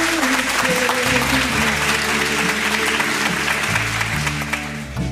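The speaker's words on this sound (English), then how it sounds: "Let's give Jesus Christ a big round of applause." A crowd gives a round of applause at a Bible school event, with dense, steady clapping that stays loud throughout before fading slightly at the end.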